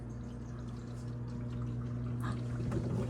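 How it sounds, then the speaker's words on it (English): A COMFEE 17.24-inch countertop dishwasher fills with water, a steady rushing pour and trickle over a constant low motor hum, close and continuous. "It's filling up."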